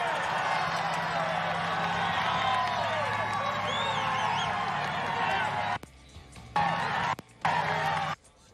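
Crowds of spectators lining the streets of the market town of Skipton during Stage 1 of the 2014 Tour de France, a dense continuous roar of cheering and shouting under a commentator's voice, briefly dropping out near the end.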